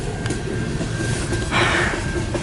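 A long CN eastbound mixed freight train of gas and coal cars rolls steadily past at Port Huron, Michigan, its constant nearby rumble swelling with a short burst of hiss toward the end.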